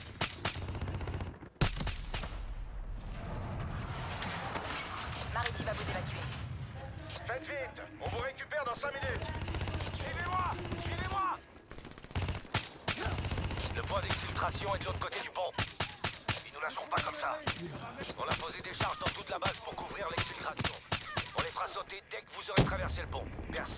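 Gunfire from the mounted gun of a technical vehicle in Call of Duty Black Ops 3, sharp repeated bursts mixed with game sounds and someone talking over much of it.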